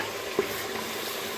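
Ground tomato, garlic and ginger paste dropped into browned onions in a pot sizzles and fries, a single soft splat followed by a steady, low hiss close by, with no talking.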